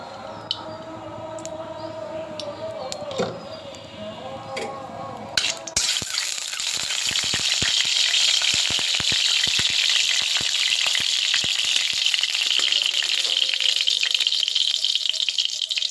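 Hot mustard oil sizzles and crackles steadily and loudly as a dried chili goes in after a sudden start, with a few soft clinks and kitchen sounds before it.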